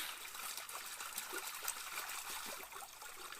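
Water swirling and trickling over gravel in a gold pan as it is washed, a steady close wet rush with small splashes and pebble rattles throughout, no talking.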